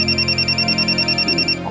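A telephone rings with a repeated electronic trill, steady and fairly close, ending abruptly.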